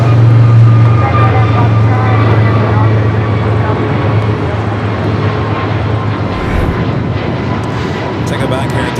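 An airliner rolls for takeoff on runway 25 Right at Los Angeles International Airport, a loud, steady jet engine roar with a low droning hum that holds throughout and eases slightly near the end, with radio chatter or talk faintly mixed in.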